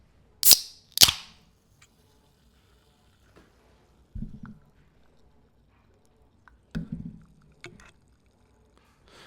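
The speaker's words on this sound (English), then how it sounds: "the firm, crisp crack of a Dr. Pepper up close to the mic" A Dr. Pepper can cracked open right at the microphone: two sharp, crisp snaps close together at the start, followed by a few softer fizzing and handling sounds in otherwise quiet surroundings.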